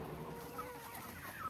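Meat-bird chickens clucking softly at a farm, a steady low chatter of several birds close by with a couple of brief higher calls, no voices.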